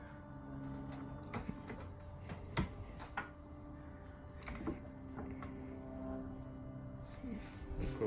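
Airmatic air suspension on a Mercedes W220 lowering the car, heard as a steady hiss of venting air with scattered clicks and knocks, close by, with no talk over it.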